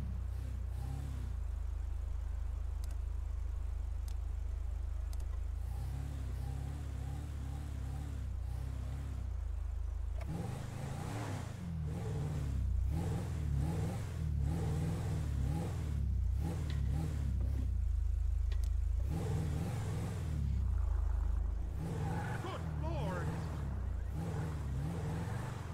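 A Toyota Fortuner drives in the GTA V video game, with a steady low engine hum that shifts in pitch and revs, then turns busier and rougher midway as it accelerates.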